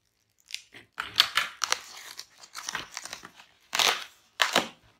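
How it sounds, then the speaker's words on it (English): Scissors snipping and crinkling through the plastic wrap of a toothpaste pack, a run of close, crisp cuts and rustles with a few louder crunchy bursts near the end. "So I've got my scissors."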